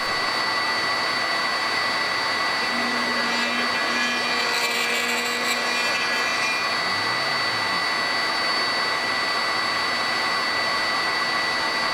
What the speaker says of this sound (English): I raised the bit, returned the dust shoe, and ran the first stage of the cutting job